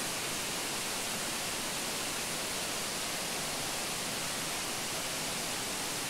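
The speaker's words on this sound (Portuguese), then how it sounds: "Dá para vocês ouvir o barulho da água." Underground stream in a cave area of Varzelândia, Minas Gerais, with water flowing in a steady, dense broadband rush that holds constant throughout, without voices.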